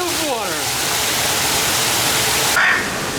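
Broadband rushing roar of a waterfall inside an aquarium exhibit at Moody Gardens, loud and constant throughout, with a brief high bird call near the end.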